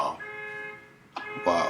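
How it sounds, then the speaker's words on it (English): A car alarm sounds faintly in the background, a sustained electronic tone held for about a second before a speaker's voice breaks in over it. "wow, car alarm, cool"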